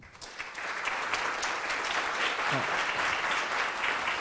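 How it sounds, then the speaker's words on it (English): A conference audience at an interfaith coalition panel gives a round of applause, many hands clapping in a steady, even wash that builds quickly after a brief quiet start and holds to the end. "So let's give them a big round of applause."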